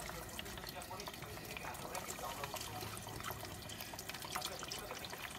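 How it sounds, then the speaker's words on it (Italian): Water pours steadily into a cooking pot of cauliflower soup on a stove, a continuous rushing splash lasting several seconds at moderate closeness with no pauses. "e aggiungiamo l'acqua"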